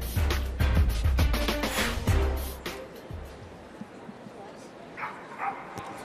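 A German Shepherd gives a burst of barks and yips in the herding group ring at a dog show, loud in the first half and then fading into crowd murmur and talk.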